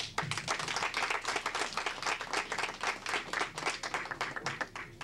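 An evening audience claps for a welcomed guest speaker, a brisk, dense patter of many hands that carries on evenly and fairly close throughout.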